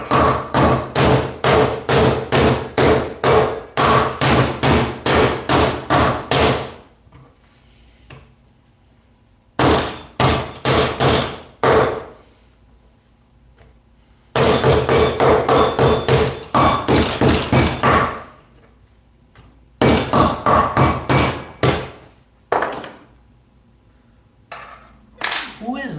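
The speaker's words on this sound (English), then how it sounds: "I'm gonna look around for my meat pounder here. If I can't find it, I'll have to improvise, but we'll just tenderize that real quick." A meat pounder hammers beef for a teriyaki bowl, striking in rapid loud bursts of sharp metallic thuds, pausing between rounds, with faint background noise in the gaps.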